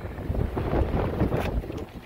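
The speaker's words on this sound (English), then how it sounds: "Very windy." Strong wind buffeting the microphone, a continuous low rumbling roar with gusty surges, loud and close, no speech.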